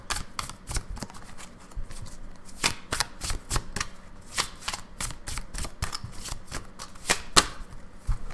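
Tarot cards being shuffled by hand in a quick run of crisp, papery riffles and taps, close and fairly loud, with no talking.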